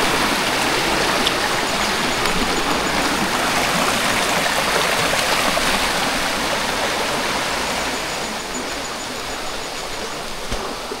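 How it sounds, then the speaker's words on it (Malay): A river flows across a hiking trail on Gunung Besar Hantu in Negeri Sembilan, Malaysia, a steady close rushing of water that stays loud and unbroken with no voices. "Okey, kita kena melintas satu sungai ni."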